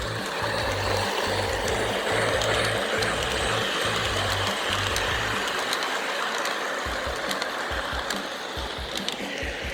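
A Lionel Polar Express model train runs on O36 FastTrack, producing a steady rumbling, whirring drone with a rhythmic low clatter that fades partway through while the motor hum continues.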